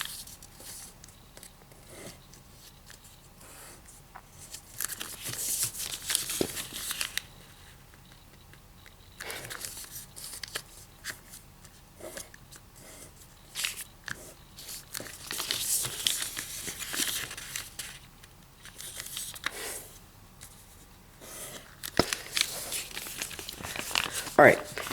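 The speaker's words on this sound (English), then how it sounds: "So just fold from that crease all the way over." Origami paper is folded and creased while making a fireworks flasher, with repeated crinkling, rustling and sharp crease sounds close by and a voice talking at times over the paper handling.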